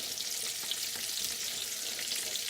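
Pork steak frying in a skillet that is too small for the meat, a close, even, continuous hissing sizzle with no voices.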